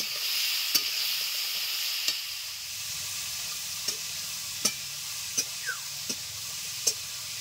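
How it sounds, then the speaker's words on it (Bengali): Food sizzles steadily in a hot pan over medium heat, with a constant hissing fry and a few sharp scraping clicks of a spatula stirring it, spaced irregularly across the span; no one speaks. "আমি এটাকে ভালো করে ভেজে নিচ্ছি"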